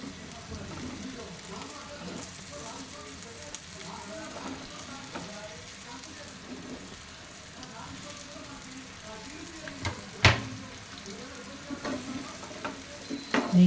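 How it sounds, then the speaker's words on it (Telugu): Chopped okra fries in a pan for Rayalaseema-style bendakaya fry, a steady close sizzle with stirring scrapes and a few sharper clacks of the spoon near the end. "ఇప్పుడు మనం కట్ చేసి పెట్టుకున్న బెండకాయలు"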